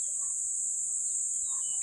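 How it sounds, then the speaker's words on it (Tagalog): Crickets on a mountainside give off a steady high, shrill trill, faint and continuous, with a few soft bird chirps scattered in the background. "Ayan mga kuliglig."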